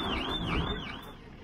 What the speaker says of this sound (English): At least you know his alarm works.